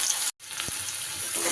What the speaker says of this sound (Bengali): একটু সময় আলুগুলোকে আমি এইভাবে নাড়াচাড়া করে নেব।